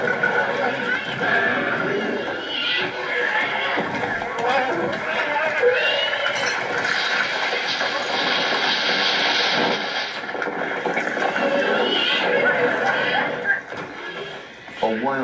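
Wild horses neigh and whinny amid hoofbeats during a roundup by cowboys roping them, a dense, continuous din under voices talking throughout, with a droning engine or aircraft in the background.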